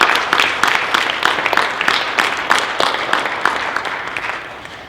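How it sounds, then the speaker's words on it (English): A class gives itself a round of applause, many hands clapping steadily at close range and then tapering off near the end. "give yourselves a quick round of applause and for one another"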